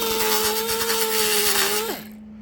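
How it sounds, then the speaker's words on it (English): A roll lock disc grinding down weld tops on a Bronco roof patch: a loud, steady high whine with a bright abrasive hiss that runs for about two seconds, then spins down and stops, leaving a fading hum. "I just took the tops of these off a little bit with the roll lock disc"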